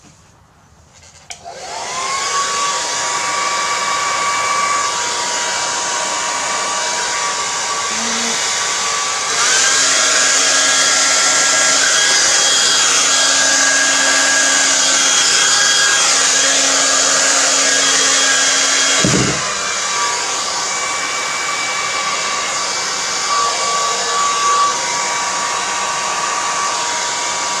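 Hair dryer blowing over an acrylic paint pour, a steady loud whooshing whir that switches on and runs continuously, with a brief shift in pitch partway through.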